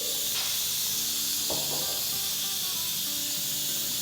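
Steam hisses continuously from a pressure cooker being vented after cooking dal and rice, a steady loud close rush with faint clatter in the background.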